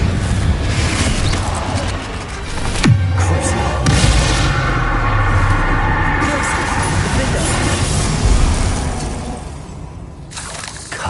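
Confringo fire spell blasts in the video game Hogwarts Legacy, heavy booms and crashing, shattering impacts that rumble on and off over a noisy combat bed, with talk in places.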